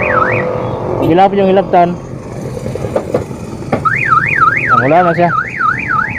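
A car alarm installed in a van wails in a close, loud cycling siren with rising and falling sweeps and chirping bursts, while someone speaks briefly over it.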